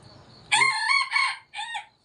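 A rooster crows loudly and close, a single cock-a-doodle-doo in three bursts after a brief quiet rustle, with nothing else heard.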